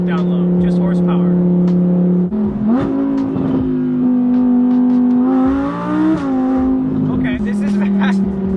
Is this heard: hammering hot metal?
no